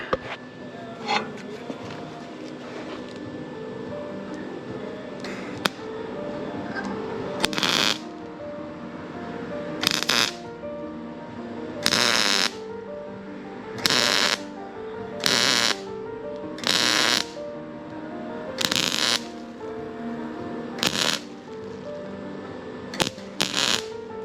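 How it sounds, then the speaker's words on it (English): Welding bead filling a gouge in a trailer, heard as a series of about eight short, loud crackling bursts over a steady workshop hum, each lasting roughly half a second to a second with brief pauses between. "Now we're gonna fill that up with weld."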